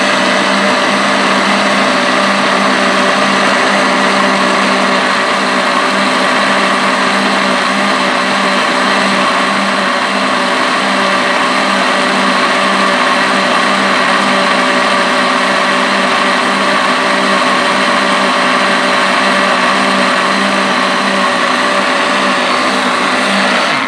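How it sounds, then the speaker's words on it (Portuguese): A blender whirs steadily at high speed, blending a fruit and vegetable juice; a loud, unbroken motor drone with a constant pitch and no talking. "Agora eu vou bater novamente. Tá? Até ficar bem batido."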